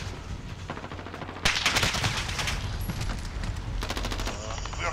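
Gunfire rattles in an online Call of Duty match, with rapid automatic bursts that get louder midway and come in quick rolling volleys while players talk over the headset.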